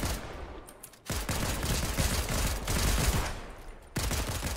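Rapid pistol gunfire in the Fortnite video game, loud and close, with dense bursts of shots broken by two brief gaps of near silence.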